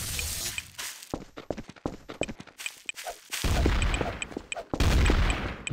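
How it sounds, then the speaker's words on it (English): Video game gunfire crackles in quick bursts of rapid shots broken by short pauses, close and loud, with dense volleys toward the end and no talk over it. "Killa, stop shooting people."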